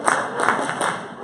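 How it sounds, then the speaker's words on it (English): A crowd chanting the 'Let's go, YB!' cheer together, loud rhythmic shouted bursts mixed with clapping. "we just got to hear the YB cheer again"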